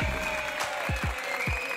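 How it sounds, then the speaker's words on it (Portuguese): Studio audience applause on a Brazilian TV entertainment show, a short burst of steady clapping with scattered cheers. "aplausos pra doutora Adélia"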